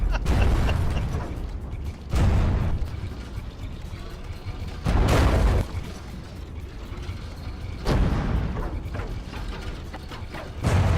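Tank cannons fire in a From The Depths tournament battle at point-blank range, four heavy booming blasts spaced a few seconds apart over a mechanical clanking and creaking background.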